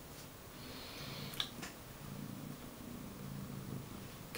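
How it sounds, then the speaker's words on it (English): A house cat purrs close by, a soft, steady low rumble that continues faintly through the quiet moment, with one small tick near the start. "Can you guys like hear him purr? He's like a purring machine."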